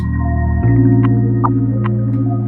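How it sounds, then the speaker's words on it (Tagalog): An Insta360 pocket printer starting up, a steady electronic hum that shifts pitch partway through, with a few short soft chirps and clicks over it, close and alone. "So yung tunog na yun yung sabihin nating startup ng printer."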